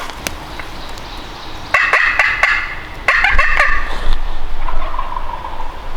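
A wild turkey tom gobbles outdoors near a river during a spring hunt, giving two rolling gobble bursts at moderate distance over quiet woodland ambience.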